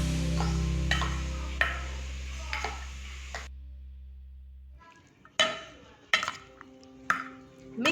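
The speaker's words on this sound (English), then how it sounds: "And you have to mix this well." Fruit salsa is mixed in a bowl with a spoon, giving scattered scraping and sharp clinks against the bowl. A low hum runs under the first half, then the stirring knocks come alone in irregular bursts.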